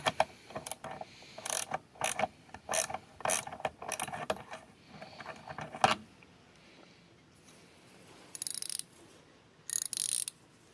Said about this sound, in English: the bread and butter is the ratcheting wrench mechanism itself. So first I will put this on here so you all can hear it.